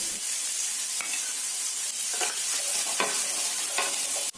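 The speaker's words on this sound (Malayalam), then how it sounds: "നമ്മൾ ഇരിഞ്ഞ് വെച്ചേക്കുന്ന സവാള ഇട്ട് കൊടുക്കാം." A medium-sized sliced onion sizzles steadily in coconut oil in a pan while making a spicy Kerala cheese masala breakfast, with a few sharp scrapes of stirring over the constant close frying hiss and no talking.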